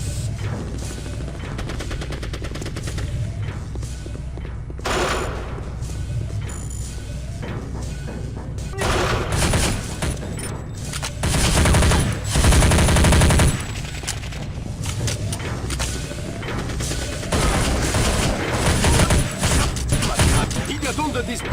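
Gunfire in the Counter-Strike: Condition Zero video game comes in bursts of loud automatic shots and metallic mechanical clatter, growing heavier in the middle and later stretches.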